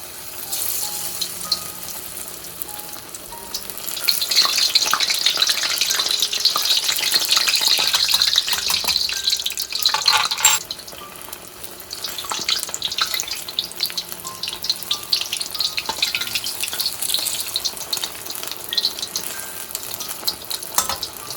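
Beer-battered fish frying in hot oil gives a steady, close bubbling sizzle that runs the whole time, with a short dip near the middle before the crackle comes back.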